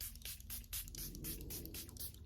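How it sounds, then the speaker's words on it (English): Charlotte Tilbury Airbrush setting spray misted from a pump bottle during makeup: a series of quick, hissing spritzes in close succession, near and fairly soft, over a low background hum. "Now we're gonna take a setting spray. I'm gonna use the Charlotte Tilbury airbrush"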